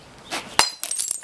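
A real glass bottle smashes over a person's head with a sharp crack followed by bright tinkling shards scattering, short and close.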